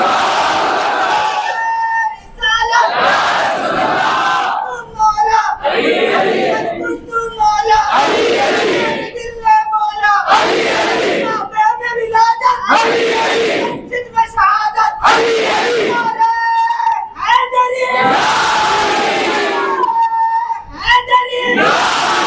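A large crowd shouts takbir cries in powerful, repeated bursts, each loud, roaring chant separated by brief pauses, in a regular rhythm across the whole stretch.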